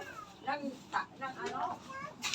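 A cat meows several times in short, rising calls, close by, with a person speaking briefly over it.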